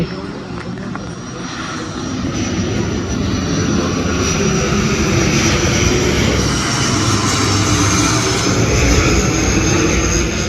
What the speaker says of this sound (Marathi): अरे हा कुठचा विमान आहे पण मित्रांनो?